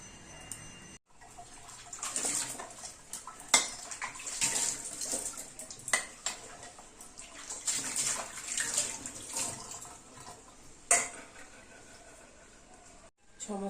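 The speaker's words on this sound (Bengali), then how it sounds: "সমস্ত বাসন ধোয়া হয়ে গেছে" Dishes being washed at a kitchen sink under running tap water, with a steady splashing stream, clinks of utensils and intermittent louder sloshes close by.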